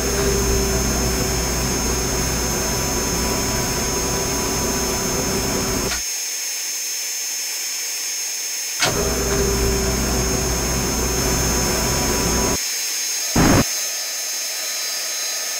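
A steady, loud jet fighter engine roar in the flight combat game Strike Fighters 2 cuts off abruptly twice and resumes, with a short burst near the end.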